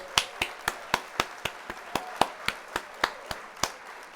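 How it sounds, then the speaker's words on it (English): A sharp, evenly spaced series of single claps or snaps, about four per second, plays as a sound effect during a livestream while building a LEGO Exo Suit, crisp and close with no talk over it. "Gonna hit the applause there."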